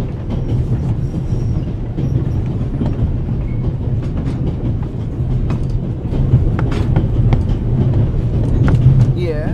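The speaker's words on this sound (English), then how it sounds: "The noise on this train is driving me crazy." The Orient Express train in a video game rumbles on continuously from the inside, a dense low roar with rhythmic wheel clacks that grows slightly louder toward the end.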